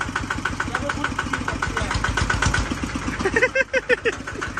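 A 140-horsepower RT farm vehicle engine idles and runs after a gear change, a loud close rumble with rhythmic chugging that surges and stutters near the end.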